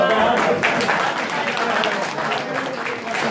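A crowd at a mushaira poetry recital in Ahmedpur Sial bursts into loud, sustained applause, a dense wash of clapping that holds steady throughout.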